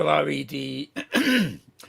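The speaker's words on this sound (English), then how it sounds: "Sorry, cough, cough." A person clears their throat with a few rough, voiced coughing rasps in quick succession, close and loud.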